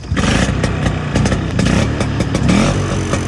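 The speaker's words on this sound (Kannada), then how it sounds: "ಒಂದೊಳ್ಳೆ ಲೆಗಸಿ ಇರೋ ಎಲ್ರಿಗೂ ಗೊತ್ತಿರೋ ಸ್ಕೂಟರ್ ಅಂದ್ರೆ ಬಜಾಜ್ ಚೇತಕ್" A Bajaj Chetak 150cc two-stroke scooter engine runs loud and close with a rough, continuous buzzing putter and small sputtering pulses, with no talking.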